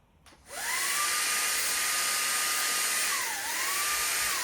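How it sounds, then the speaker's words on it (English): A small battery paint sprayer pump whirs up to a loud, steady high-pitched whine, its pitch dipping briefly before rising again as it cycles off and on, close by. "it sounds like the pump on the sprayer is turning off and turning on consistently"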